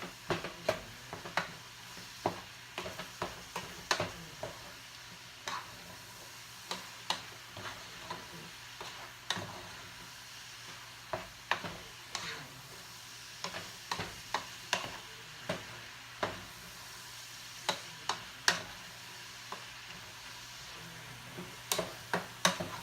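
Cumin, chili powder, oregano, cayenne and sugar being stirred into a pot of chili, a sequence of sharp spoon scrapes and taps against the pot at an uneven, steady pace, close and moderately loud with no talking.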